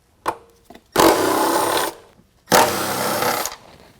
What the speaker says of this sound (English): What we're going to do for right now is pull both of those bolts out using a 12 millimeter.